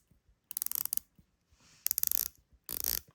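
An Omega Seamaster 300M dive watch bezel turned by hand, giving three quick bursts of crisp, close ratchet clicks separated by short pauses, with no voices.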